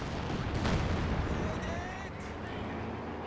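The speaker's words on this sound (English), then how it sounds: "Grenadier squad under artillery fire, though." Artillery shells strike a grenadier squad in a real-time strategy war game, a dense continuous roar of booming impacts and crackling fire, loudest early on, with a voice talking over the top.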